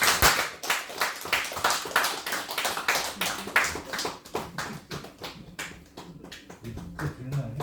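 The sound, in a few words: congregation clapping at church anniversary cake lighting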